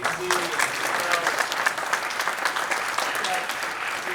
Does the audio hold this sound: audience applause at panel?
yes